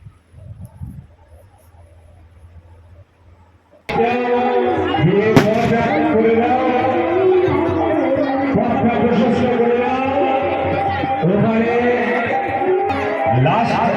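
Fireworks go off at a village fair after a quieter opening, a sudden burst turning into dense, sustained crackling and whistling bursts, loud and close, with crowd noise mixed in.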